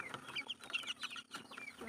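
A sick broiler chicken with a cold clucks in a rapid run of short, close clucks and squawks, fairly quiet, with no one talking.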